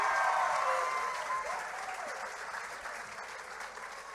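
Audience applause fills a hall at a Taiwanese cultural night event, a dense wash of clapping that starts loud and slowly fades over a few seconds.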